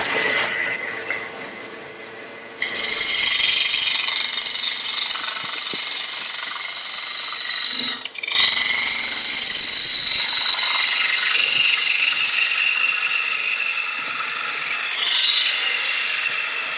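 Wood lathe turning the end grain of a lidded box blank with a spindle roughing gouge: steady loud hissing, rasping cuts with brief pauses near 3 and 8 seconds, no talk.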